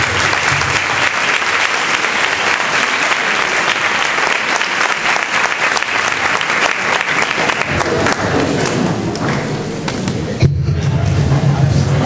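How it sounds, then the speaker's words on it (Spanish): Audience at a school graduation sash ceremony applauding, a dense, loud wash of clapping from a large crowd that holds steady for about ten seconds before thinning out. "Un aplauso para ella."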